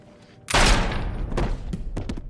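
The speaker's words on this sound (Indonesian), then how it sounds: "menembak si Sensei tepat di kepalanya" A single sharp, loud pistol shot to the head in a film scene bursts out suddenly, followed by a rumbling tail and a few smaller thumps and impacts.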